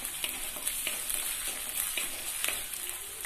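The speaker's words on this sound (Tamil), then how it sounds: "கொஞ்சம் நல்லா வதங்கட்டும்." Chopped ginger and garlic sauté in a clay pot for vegetable kurma, a continuous soft sizzle with faint periodic stirring scrapes, steady and close, with no talking.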